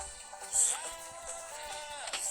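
A single drawn-out goat bleat in a video game wavers over a low electronic background, fairly close and clear.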